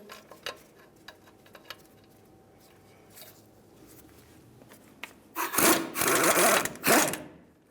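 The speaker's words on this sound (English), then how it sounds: "We'll start by removing the top bolt, but leaving it in, just a few threads." A bolt is worked loose from a brake caliper on a 2005-2010 Dodge Dakota, starting with faint scattered clicks and light metallic ticks, then turning into loud, rough bursts of tool noise close by near the end.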